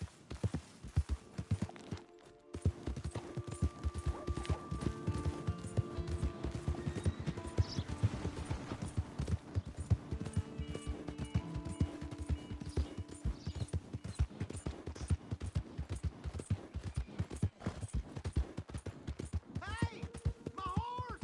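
Rhythmic video game horse hoofbeats clip-clop steadily, close and continuous, with an occasional horse whinny and brief vocal sounds in between.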